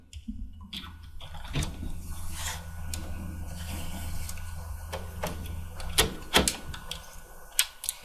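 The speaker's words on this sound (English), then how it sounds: "now this is in the tray, and all I need to do is slide it back into the system" A hard drive tray slides back into a home server, with rubbing plastic and metal scrapes, a low mechanical hum, and sharp clicks and knocks near the end as it seats, close and moderately loud.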